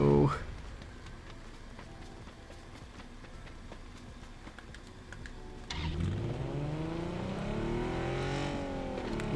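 A car engine in the video game PUBG Battlegrounds hums steadily, then revs up with rising and falling pitch as the vehicle accelerates, with a voice speaking over it.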